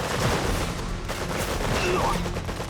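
Gunfire destroying target dummies in the Red Alert 3 tutorial mission, dense overlapping bursts of shots and impacts rattling continuously for a few seconds with game sound around them.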